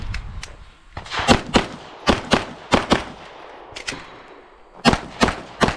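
Rapid gunshots ring out at a practical shooting competition stage, sharp loud reports fired in quick strings and pairs with brief pauses between bursts, close to the shooter.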